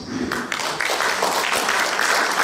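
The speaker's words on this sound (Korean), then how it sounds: "뜨거운 박수 부탁드리겠습니다." Applause breaks out from the audience at a Korean book concert, a bright, busy patter of clapping that stays fairly loud and even over the short stretch.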